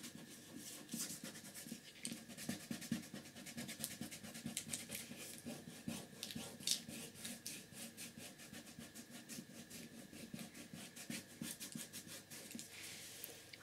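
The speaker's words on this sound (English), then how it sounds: "Just using my finger, just scrubbing away." Finger scrubbing chalky oil pastel on paper, a steady soft dry rubbing texture that continues alone at low volume with rhythmic scratchy strokes.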